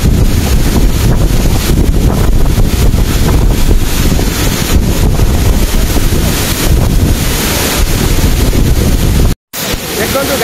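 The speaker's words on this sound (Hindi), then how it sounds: "झरना साउंडटा" Rushing water at Sarisua Waterfall in Baleswar, a loud, continuous roar with heavy rumbling low end and wind buffeting the microphone, broken by a brief dropout near the end.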